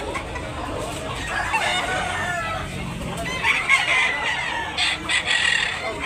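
Chickens cluck and a rooster crows at a busy poultry market in Tabunok, Talisay, Cebu, the bird calls fairly close and steady over crowd babble, with people talking throughout.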